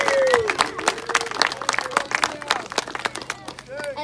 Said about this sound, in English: So give these girls a round of applause and their dads